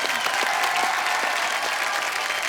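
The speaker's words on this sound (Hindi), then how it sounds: "एक बार जोरदार तालियां।" A studio audience at a televised comedy talk show breaks into brisk, even applause that fills the whole moment, close and continuous with no voices above it.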